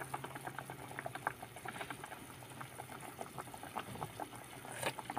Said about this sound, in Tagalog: So hayaan pa natin siyang kumulo guys para maluto pa ang ating isda